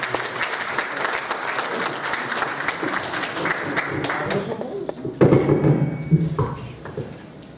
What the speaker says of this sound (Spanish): Un fuerte aplauso al profesor Pereira